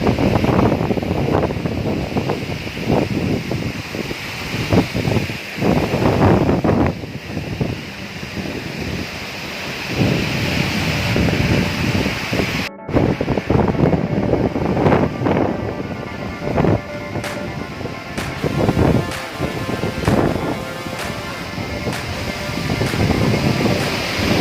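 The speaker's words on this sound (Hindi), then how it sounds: "यहाँ पर जो है पानी और हवा का बहुत ज़्यादा शोर है" Thorgu waterfall near Skardu roars continuously with gusting wind buffeting the microphone, a loud, steady rush of falling water broken by irregular wind thumps.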